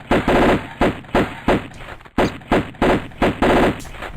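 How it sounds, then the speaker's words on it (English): Lara's pistols firing in the Sega Saturn Tomb Raider game, a rapid series of sharp, loud gunshots in quick bursts, about a dozen cracks with brief gaps, no talk over them. "turn around and shoot again"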